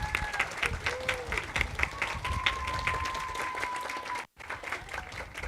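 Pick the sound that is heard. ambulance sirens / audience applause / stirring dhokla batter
audience applause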